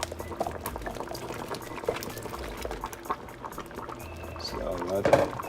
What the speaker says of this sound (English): So now I'm gonna be pouring my okra.